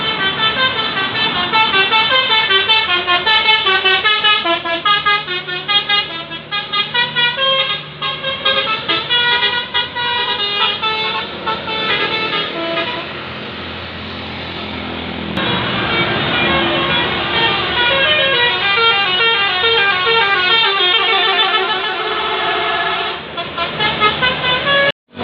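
Dana Trans tour buses passing close by one after another, sounding long, loud musical multi-tone horns that play melodic honking patterns continuously, with road traffic beneath.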